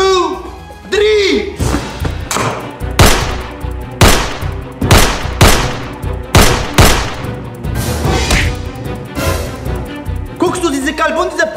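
Repeated gunshots ring out in a comedy sketch setting, sharp loud bangs spaced irregularly over several seconds, mixed with ongoing talk and shouting between them.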